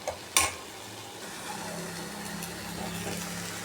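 Green gram and potatoes being stirred together in a frying pan after sautéed ginger, garlic and tomato, with a sharp utensil clack near the start, then a soft steady sizzle and scraping.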